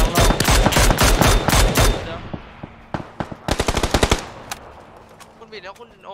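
Loud automatic gunfire rattles in the PUBG shooter game, first a long rapid burst, then scattered single shots and a second quick volley. Distant shots fade out at the end.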